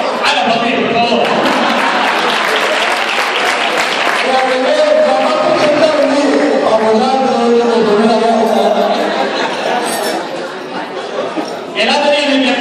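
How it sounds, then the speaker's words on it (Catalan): Audience at a Sunday lunch clapping along, loud sustained applause blended with music and crowd chatter, fading briefly near the end before picking up again. "Ara, aplaudir, per favor."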